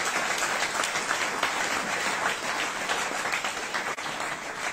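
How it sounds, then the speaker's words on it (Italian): An audience at a sponsor presentation evening for the Benedetto XIV basketball club in Cento claps steadily, with dense, loud applause filling the whole stretch and no talk. "Un bel applauso."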